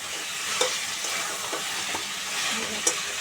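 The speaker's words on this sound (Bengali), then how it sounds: "মশলা তেল আলাদা আলাদা হয়ে যাচ্ছে তার মানে কষানো হয়ে গেছে" Chicken pieces and spices sautéing in oil in a pan, with a soft continuous sizzle close by and a few sharp scrapes of a spatula as the mixture is stirred, no talking.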